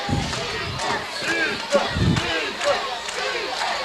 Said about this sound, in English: the Big Red side chanting defense, defense